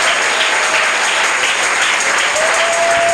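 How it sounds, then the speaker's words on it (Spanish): Audience applause at a church service, continuous even clapping heard up close throughout. "dale un aplauso a Dios por eso"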